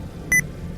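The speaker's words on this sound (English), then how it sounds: "oops, sorry about the beep" A single short electronic beep, a clean high tone lasting a fraction of a second over a quiet low background hum.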